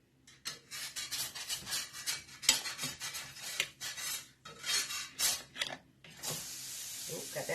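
Cutlery scraping and clinking against a plate while a blueberry pancake is cut up, a steady run of close scratchy strokes and taps with faint background hum.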